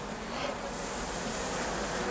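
Dense, continuous buzzing of many black honeybees swarming close around a hive being readied for winter, a steady drone with no pauses.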